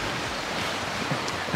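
Wind and ocean waves at high tide make a steady, broad wash of surf noise, fairly loud and continuous with no distinct breaks and no voices.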